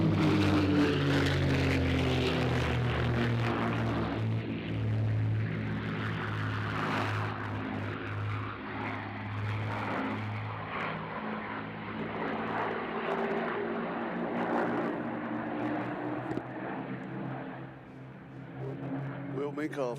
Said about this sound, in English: a P-51 races overhead